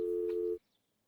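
A telephone busy signal sounds in a cartoon as a call goes unanswered: one short, steady electronic tone that cuts off abruptly into silence.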